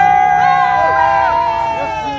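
Cameroonian supporters cheer and shout together in a loud, close crowd, with whoops and sliding, pitched yells that gradually fade over the couple of seconds.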